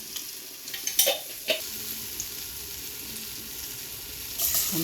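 A full spoon of cumin seeds sizzles in hot oil for a traditional Bengali fish curry, a steady close frying hiss broken by a few sharp clicks from stirring and a brief louder flare near the end.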